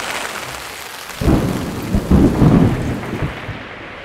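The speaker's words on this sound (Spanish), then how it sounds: "Y luego empezaron a sentirse unos rayos, unos fuertes truenos" Thunder during a mountain storm rumbles in a loud, rolling burst that swells and fades over a few seconds, over a steady bed of falling rain.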